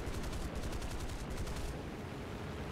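Rapid machine gun fire from an F8F-1B Bearcat fighter in War Thunder, a fast steady stream of shots rattling against a constant engine roar, loud and close, with the bursts ending partway through.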